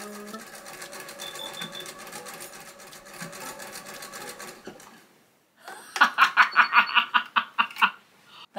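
A sewing machine stitching plastic for a costume, first a steady, quieter whirring run, then after a brief pause a louder stretch of rhythmic, pulsing clatter as the needle punches through.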